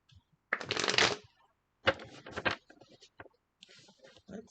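Reading cards are shuffled in several quick riffling bursts, close and crisp, separated by brief silent gaps.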